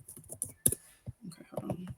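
Quick bursts of clicks on a computer keyboard, close by, in short irregular runs, while people talk over and between the keystrokes.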